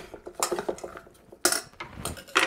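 A spoon knocks and scrapes against a bowl while apples are stirred, giving a run of close, uneven clinks and scrapes, louder bursts toward the end.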